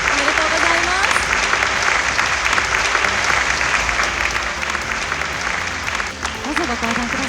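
Dense, sustained applause from an audience at a corporate advertising awards show honoring a prize-winning company, a loud continuous wash of clapping that fills the room for several seconds, with faint voices mixed underneath.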